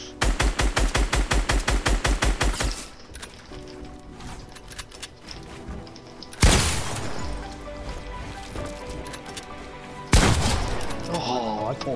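Shotgun gunfire in the Fortnite video game: a rapid rattling burst of shots up front, then two heavy booming blasts several seconds apart, each trailing off into a ringing decay.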